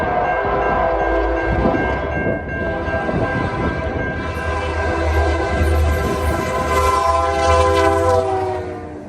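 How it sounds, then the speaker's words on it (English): Ontario Northlander special test train passing with a loud sustained chord horn sounding across the whole stretch, over the rumble and clatter of the moving train, close by. "the Ontario Northlander ran a special test train from Coach Run to Toronto"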